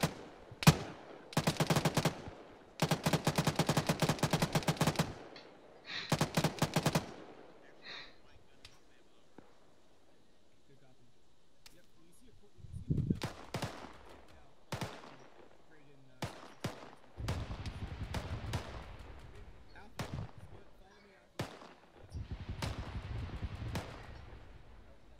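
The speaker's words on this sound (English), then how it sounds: "From my location, about to use the AGS on it." AGS automatic grenade launcher firing in a military training exercise, loud rapid bursts of repeated reports in several strings, then scattered distant booms and rumbles, with voices talking between the shots.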